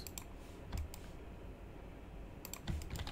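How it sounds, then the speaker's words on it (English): Single computer keys are pressed twice, each a crisp pair of close clicks separated by a couple of seconds of quiet room tone, with no talking. "Let's hit one on the keyboard"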